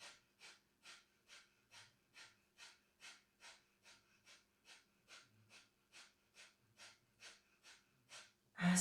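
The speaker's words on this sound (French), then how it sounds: "La respiration se fait toujours par le nez en yoga. Kapalabhati aussi." Kapalabhati yoga breathing through the nose: a steady series of about sixteen sharp, forceful exhalations, roughly two per second, close and evenly rhythmic, ending in a louder burst.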